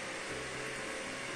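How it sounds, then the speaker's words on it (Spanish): Cooling fan of an old Pentium 4 computer running Windows 10, a loud, steady broadband whir like a jet reactor, filling the short stretch alone. "perdonad el sonido del ventilador, pero es que quería que lo escucharais en directo"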